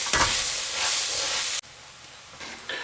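Garlic cooks in a pan with a loud, steady sizzle and hiss that cuts off abruptly partway through, followed by quieter crackling and a brief return of frying noise.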